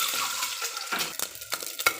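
Biryani ingredients fry in a pan with a soft hiss, broken by irregular scraping and stirring knocks of a utensil against the pan, close and moderately loud.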